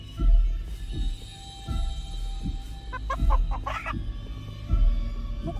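An angry chicken in a video game clucks repeatedly in short, sharp bursts, with a cluster of higher squawks in the middle, loud and close with no talk over it.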